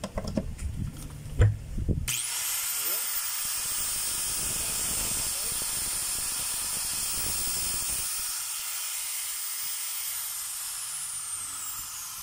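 A DeWalt DWE8200S 4-inch angle grinder runs steadily after a carbon brush repair, with a loud, continuous high-pitched whine that starts abruptly after a brief moment of handling noise and holds for about ten seconds.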